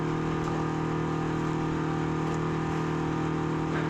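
A Detroit Diesel engine in an Oliver 1650 tractor runs loud even with a muffler, a constant deep droning roar held close and steady throughout.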